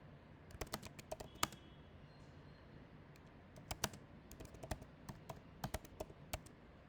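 Quick bursts of typing clatter on a computer keyboard, crisp close keystrokes in uneven clusters separated by short quiet gaps, with no voices.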